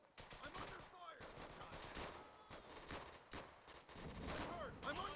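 Dense gunfire in Easy Red 2, with rapid machine-gun bursts and overlapping rifle shots crackling almost continuously, some nearby and loud, others farther off, and shouted voices mixed into the battle noise.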